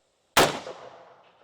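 A single 22 ARC rifle shot fired with Hornady match ammunition cracks loudly and decays over about a second, followed by a faint, distant ping from a steel target.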